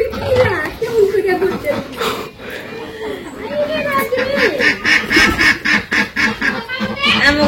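Village ducks quack loudly and repeatedly up close while being chased and caught, with harsh overlapping calls and flapping commotion mixed in as people talk over them.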